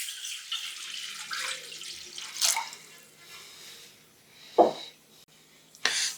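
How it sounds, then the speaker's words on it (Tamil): Half a litre of water poured into a hot wok-style frying pan, a running gush with splashy bursts and a brief sizzle-like hiss, close and alone without talk. "நம்ம 1/2 லிட்டர் தண்ணி சேர்த்துக்கலாம்."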